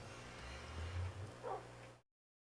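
A dog in Minecraft yips and barks a few times over about two seconds, fairly faint under a steady low background hum, then silence.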